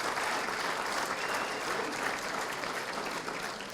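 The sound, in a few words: audience applause at hall of fame event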